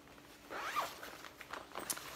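A zipper on a bag compartment is pulled open in a quick close-up run, a few rasping strokes in a row ending with a sharper final zip, with no talk.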